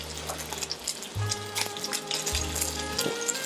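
Duck leg frying slowly in a pan, a soft steady crackle and sizzle, close and continuous under a low intermittent hum, with no talk.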